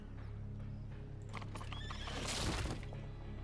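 A horse in a video game gives a loud, close whinny that rises and peaks near the end, over a steady backdrop of game ambience and faint hoof clatter.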